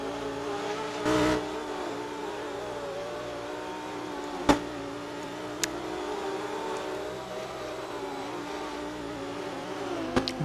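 Sports cars racing on a circuit during a 2023 RFTC sports car race at Sonoma, a steady layered engine drone from several cars lasting throughout, with a brief louder burst early on and a few sharp clicks or pops, no talk.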